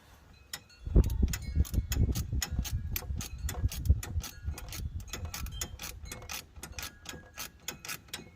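A ratchet clicking in rapid uneven bursts as a fitting is cranked down on a catch can for a Ram 1500 5.7 HEMI, close and crisp over faint mechanical clunks.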